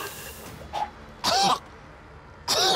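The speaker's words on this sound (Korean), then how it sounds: "그 여자의 기침이 점점 더 격해지더니" A woman coughs in three harsh, separate bursts, the last two heavier and raspier, with quiet pauses between them.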